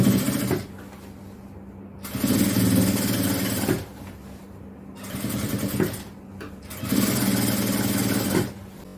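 Sewing machine stitching puff shorts in bursts of a couple of seconds each, separated by short pauses, with a steady close mechanical whir and no talking.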